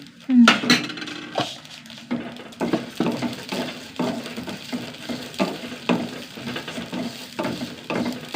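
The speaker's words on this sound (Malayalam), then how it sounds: "അരി സ്വഭാവം കാണിച്ചു പൊട്ടാൻ തുടങ്ങി" Rice dry-roasting in a pan on the stove, with crackling pops and scraping stirs against the metal recurring steadily throughout, fairly close and moderately loud, no talking.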